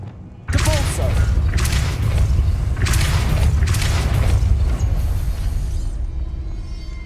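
A Depulso spell cast in Hogwarts Legacy, a sudden loud whooshing blast that kicks in sharply and is followed by a series of rumbling bursts before fading out, with a brief voice in the mix.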